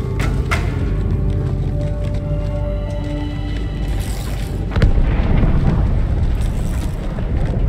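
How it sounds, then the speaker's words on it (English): A deep boom from an explosion inside the ship Athens in Halo 2 Anniversary, a rumbling blast that swells around the middle and holds a dense low roar throughout, with no talk. "That explosion came from inside the Athens."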